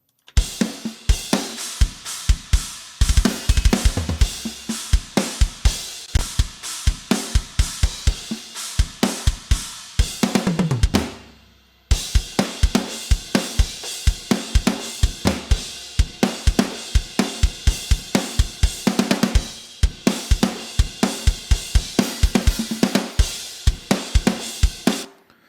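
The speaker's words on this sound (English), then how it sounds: "So the drums sound like this." Drums from a mix of a track play alone with a steady, punchy beat of kicks and bright cymbals, loud and continuous, with a brief drop near the middle before the groove resumes.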